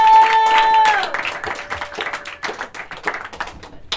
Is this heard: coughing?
no